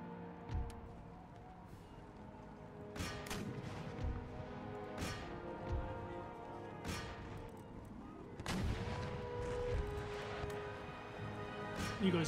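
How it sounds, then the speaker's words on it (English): Artillery batteries of howitzers fire shrapnel shot in an Empire: Total War battle against lancers, with several loud booming volleys and cracks over a continuous battlefield din, the heaviest burst near the end. "You guys blast the lancers with shrapnel shot."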